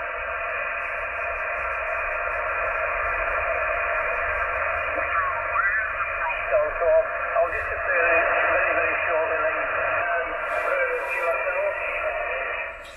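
Noisy CB/ham radio reception in lower sideband mode, a continuous hiss-filled band with faint, garbled distant voices drifting through the static across thirteen seconds.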